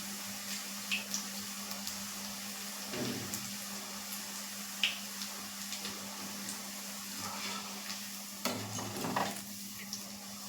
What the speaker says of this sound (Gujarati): સેવ છે તે આપણે એકદમ મધ્યમ ગેસે જ તળાવા દેવાની છે જેથી તે ક્રિસ્પી થાય